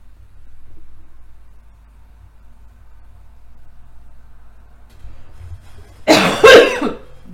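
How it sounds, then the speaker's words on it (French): One sharp, loud cough from a woman with something stuck in her throat bursts out near the end after several seconds of near silence with faint low hum. "il arrête pas de me faire tousser."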